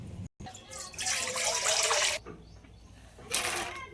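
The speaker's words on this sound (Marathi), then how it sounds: "आता हे गवाराच्या शेंगा कापलेल्या आहेत ना, हे मस्त धुवून घेऊ" Running tap water rinses finely cut cluster beans (gawar) in a kitchen, one close splashing burst lasting over a second, then a quieter lull and a second short gush.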